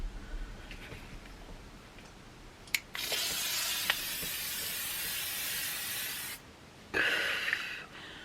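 Face setting spray misted from a pump bottle, a brief hiss followed by a long steady spray of about three and a half seconds, then a second shorter burst, close and loud with no talking.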